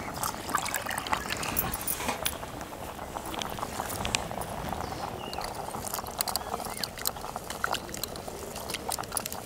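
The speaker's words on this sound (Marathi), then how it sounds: "तांदूळ आपल्याला 2 पाण्याने धुवून घ्यायचे." Uncooked rice being washed by hand in a bowl of water, with steady swishing and sloshing throughout, fairly close and moderately loud, no voices.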